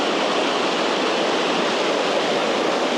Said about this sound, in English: The water's moving through here pretty fast.